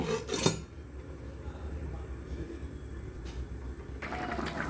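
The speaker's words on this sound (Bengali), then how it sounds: "তাহলে এখন এটাকে আমি ঢেকে দেব সবজিগুলো তাড়াতাড়ি সিদ্ধ হবার জন্য" A lid set onto a pot of vegetable curry with green banana and potato, a brief metallic clatter at the start, then a quiet simmering hiss and another light clink near the end.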